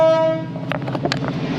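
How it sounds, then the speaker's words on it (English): A train horn blares loudly for a moment and cuts off, followed by rumbling and clanking of the passing train nearby, heard from a workshop where a cast steel clutch part is being restored on an ERF truck. "That wasn't me, that was a train."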